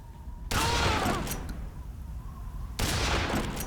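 Gunfire in Metal Gear Solid 3: Snake Eater, two loud bursts of shots, one lasting about two seconds and a second starting near the end, with no talk.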